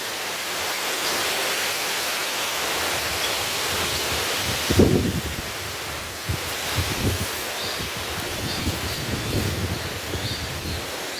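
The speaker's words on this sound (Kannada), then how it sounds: "ಗಾಳಿ, ವಿಪರೀತ ಗಾಳಿ ಗುಡುಕ್ತಾ ಇದೆ" Strong wind gusts through leafy potted garden plants and climbers, a steady broad rush with a few louder bursts of rustling, close to the microphone and with no talk.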